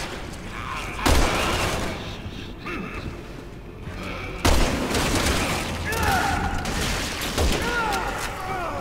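Sniper rifle fire in the video game Resident Evil 6: a few sharp, loud shots spaced several seconds apart, each followed by a noisy tail, with game sounds and background noise between them.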